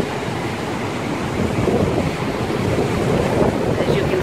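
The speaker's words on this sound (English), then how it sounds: "The surf is up, the wind is up," Ocean surf and strong wind on the coast of São Miguel in the Azores, a continuous loud roar of breaking waves with heavy wind buffeting the microphone throughout.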